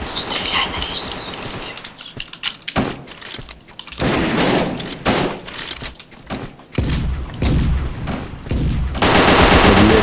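Bursts of gunfire ring out in a tactical video game match at a commissariat map, sharp shots and short automatic volleys coming in uneven clusters, loud and close, with players talking over the action.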